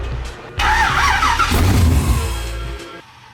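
Up close, the starter cranks on an LS3-swapped Nissan 350Z until the V8 catches and roars into a loud, rough idle that fades as the revs settle.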